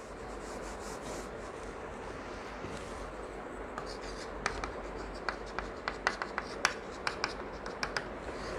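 Pen or chalk writing during a lesson working through a Surya Siddhanta astronomical calculation: a steady, close scratching and rubbing, with a run of sharp taps and ticks in the second half.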